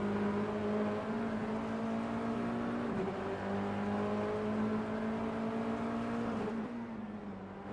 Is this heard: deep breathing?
no